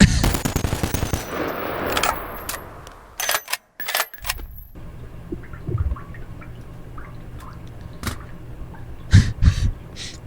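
Rapid gunfire in a VR zombie mod for the game BONELAB, with a dense burst of shots at the start followed by scattered single cracks, clicks and metallic clatter, moderately loud.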